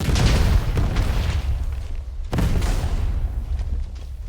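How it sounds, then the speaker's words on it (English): In a Minecraft ship mod, booming cannon shots and TNT blasts go off, two heavy explosions with deep rumbling tails, loud and close. "Turns out you can blow up TNT with cannons."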